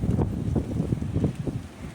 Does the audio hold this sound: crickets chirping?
no